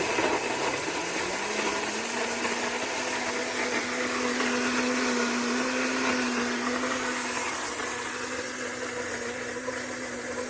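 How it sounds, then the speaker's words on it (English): A blender motor runs steadily for the whole stretch, a loud continuous whir with a droning hum and a slight rise in pitch early on. "then I'm going to turn on the blender here"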